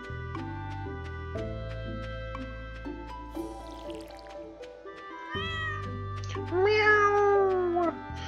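A cat in the Stardew Valley farming game meows once, a clear rising-falling cry near the end, over a gentle looping game melody with soft trickling water.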